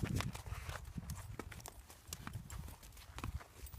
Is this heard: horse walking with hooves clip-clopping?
yes